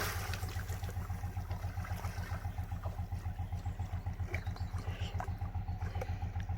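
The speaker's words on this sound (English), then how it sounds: "Sounds like an old two-stroke coming up." An old two-stroke boat engine approaches along a canal with a steady, rapid putt-putt chugging throbbing close and even, with no voices over it.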